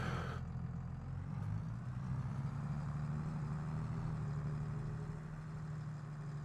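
Steady low engine drone of a tractor idling in Farming Simulator 22, a continuous rumble with a faint hiss at the start, no talk over it.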